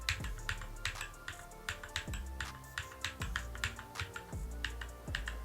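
A mechanical keyboard fitted with Glorious Holy Panda switches, modded with a Gateron Red spring, typed on close up: crisp tactile clacks in an uneven, steady rhythm, with heavier thocks from the larger keys.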